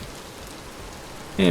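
Rain falls in the video game Vintage Story, a steady even hiss of drops filling the scene, until a voice begins speaking at the very end.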